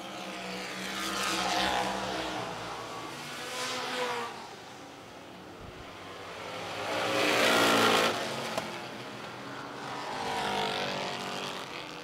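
Vintage stock cars race at Lancaster Motor Speedway, engines swelling loudly as they pass close by and fading between passes in a steady rhythm of roaring laps.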